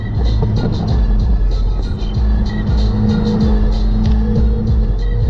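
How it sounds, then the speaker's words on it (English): A boosted Mazda Miata engine, still cold after a Deatschwerks 300 fuel pump install, idles loudly and steadily up close, with a rough, pulsing low rumble and some intermittent ticking. "so the car actually runs now with the pump"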